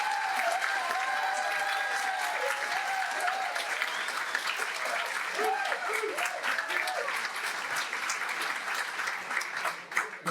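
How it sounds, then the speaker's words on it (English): An audience at a Virginia congressional debate applauds the candidates with sustained, full clapping while voices and cheers rise through it. "So we get a round of applause."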